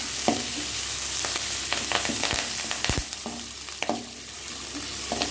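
Fresh curry leaves sauté in hot oil with a steady crackling sizzle, broken by sharp pops and occasional spoon scrapes against the pan, close and fairly loud, with no voices.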